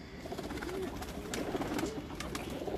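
Rooftop pigeon giving soft, low cooing calls, a few gentle rolling coos close by over quiet background noise, with no talking.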